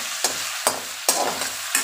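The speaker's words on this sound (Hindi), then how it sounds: "इसी तरह से चला चला के पका ले।" Boneless chicken pieces stir-fried in hot oil, with a steady loud sizzle broken by four sharp scrapes of a spatula stirring the pan at irregular intervals, no voices.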